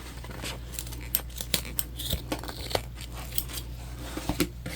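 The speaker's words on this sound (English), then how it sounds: "we're going to clip away our excess zip tape" Scissors snip away the excess zip tape on a handmade tropical Kindle sleeve, making a run of quick, light clicks and cuts at an uneven rhythm, close up and alone.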